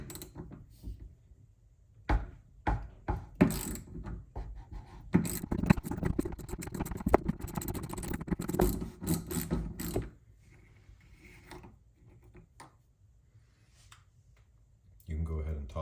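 Socket wrench ratcheting on a Moen Russo 1255 kitchen faucet cartridge, with irregular clicking and scraping bursts in the first ten seconds, close and moderately loud, then near quiet with a final short scrape.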